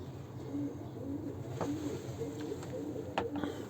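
Coos from a flock of Delifişek pigeons, soft low rhythmic cooing phrases repeating steadily close by, with a few faint higher chirps and clicks from the birds mixed in.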